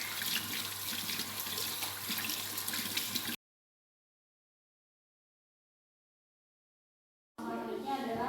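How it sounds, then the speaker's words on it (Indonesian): Running tap water pours steadily as hands are rinsed at a sink, a continuous splashing hiss that stops abruptly into silence, then resumes near the end. "Setelah itu kita basahi dengan menggunakan air mengalir."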